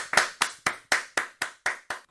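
An audience at a children's program claps for a child's song, eight sharp, evenly spaced claps in unison, loud and close with no talk.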